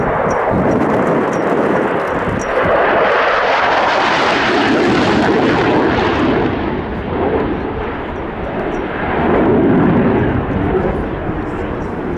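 An F-111 jet aircraft roars loudly overhead at an air show, a broad rushing thunder that swells and recedes over several seconds, dominating everything else.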